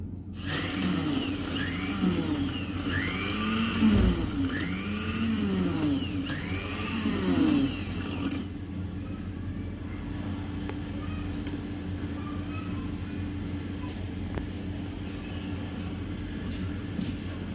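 An electric chopper grinds plain biscuits into powder, a loud whirring motor that rises and falls in pulses for several seconds, then stops, leaving a quieter background hum.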